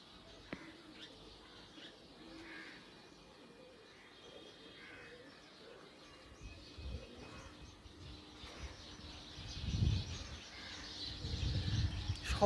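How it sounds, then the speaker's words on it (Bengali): Pigeons coo softly and sparrows chirp faintly at an old temple in Kolkata in the evening, growing a little fuller toward the end. "এখানে কিন্তু পায়রা এবং চড়ুই পাখির কিন্তু কিচিরমিচির আওয়াজ এখন সন্ধ্যেবেলায়,"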